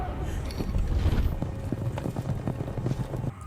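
Rhythmic hoofbeats of horses galloping, a steady pounding patter at moderate distance with some wind and faint background voices.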